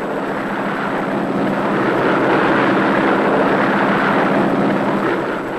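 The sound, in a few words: Curtiss Hawk biplane propeller aircraft flying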